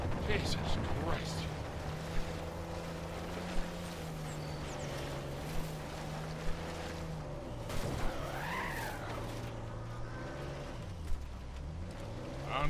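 Engine drone of a vehicle churning through mud in the video game Uncharted 4, set in Madagascar, a steady low hum with revving pitch swells and skidding bursts, continuous and close.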